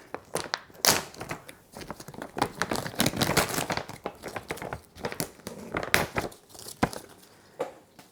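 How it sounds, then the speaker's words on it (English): A zip-top plastic bag holding plant cuttings is pulled open and handled, giving a run of irregular crinkles, rustles and sharp crackling snaps, close and fairly loud, with no one talking. "we're going to open up the bag"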